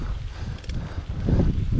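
Gusty wind buffets the microphone outdoors while cycling in open country, low rumbling bursts that swell toward the end, with no voices.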